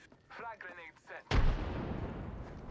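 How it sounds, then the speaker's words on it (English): A frag grenade detonates in a video game shooter, a sudden loud blast followed by a sustained rumbling roar after brief voice chatter. "Frag grenade set."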